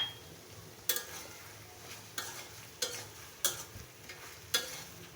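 Broiler chicken meat frying with turmeric and meat masala, a quiet continuous sizzle punctuated by five crisp spatula scrapes against the pan at roughly even intervals, close up and without speech.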